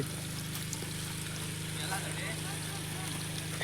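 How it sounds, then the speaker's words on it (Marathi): A water pump motor runs with a steady low droning hum and rush of water, continuous and fairly close, with faint voices in the background. "फायनली मोटर सुरू झाली"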